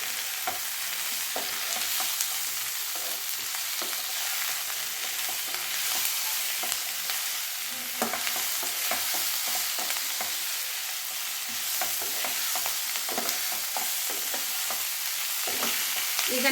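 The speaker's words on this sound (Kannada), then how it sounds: "ಹಾಗೆ ಸ್ವಲ್ಪ ಅರಿಶಿನ ಪುಡಿ, ಇಷ್ಟು ಹಾಕಿ ಮೇಲೆ ಕೆಳಗಡೆ ಈ ರೀತಿ ಮಿಕ್ಸ್ ಮಾಡೋಣ" Balekayi palya, a raw banana stir-fry, crackles steadily in a pan while turmeric powder is stirred in, with repeated spatula scrapes and taps over a constant close sizzle and no voice.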